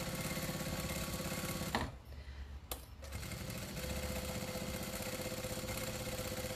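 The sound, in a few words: sewing machine stitching through a quilt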